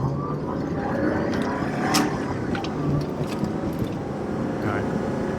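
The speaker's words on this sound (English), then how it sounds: "I'm putting the brake on, and just before I get to complete stop, I put the clutch in" A manual-transmission car slowing to a stop with the brake applied and the clutch pressed in, heard from inside the cabin as a steady, fairly loud road and engine rumble.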